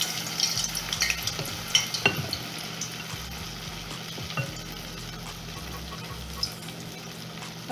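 Green plantain akara batter, shaped by hand, frying in hot oil: a steady close sizzle with faint crackles and occasional soft clinks of a utensil throughout.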